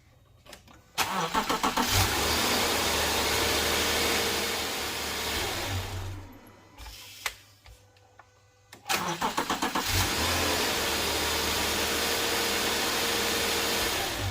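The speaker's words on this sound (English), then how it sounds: "Let's go start the engine." A Subaru Outback 3.6R engine cranks and starts after a serpentine belt replacement, revs up and runs steadily, briefly cuts out, then starts again and keeps running at a steady hum.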